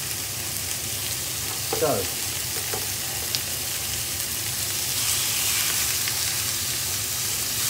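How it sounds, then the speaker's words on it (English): Minced beef and pork stir-frying in a pan for a Chinese noodle sauce, a steady close sizzle with brief stirring scrapes and a single spoken word at the start. "now, stir fry this up."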